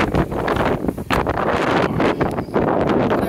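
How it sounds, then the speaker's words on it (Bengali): Wind blows hard across a sandy outdoor worksite at an Aramco facility in Dammam, buffeting the microphone in loud, continuous gusts with rustling bursts and no voices. "হাওয়া"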